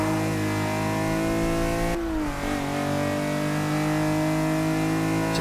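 A BMW M6 engine in Forza 6, B-class tune, revs hard and steadily climbs in pitch, briefly easing off around a shift before pulling up again, loud and close throughout.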